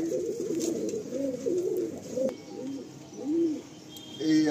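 A pair of Phulshia domestic pigeons, a hand-paired male and female, coo in repeated low rolling phrases, close by and steady, with no talk over them.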